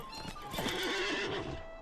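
Horse in the online game The Lord of the Rings Online, on the road between Bywater and Hobbiton, giving one loud wavering whinny close by over hoof clip-clop.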